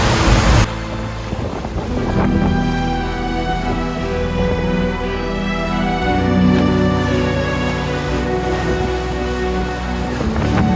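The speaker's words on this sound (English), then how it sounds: "The wind has really got up a bit. 25 knots sustained, and up to 30." Strong 25 to 30 knot wind roars steadily across a sailing boat at sea, with rushing water and waves against the hull, loud and continuous, with no voices.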